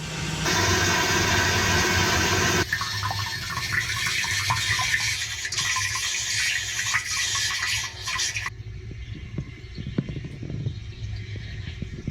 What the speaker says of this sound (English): The float is starting to work. It's starting to go up and stop the flow of water.